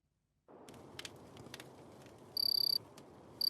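Steady crickets chirp in a video game, a dense bed of insect noise with no reverb, with bright, rhythmic trills bursting in twice near the end.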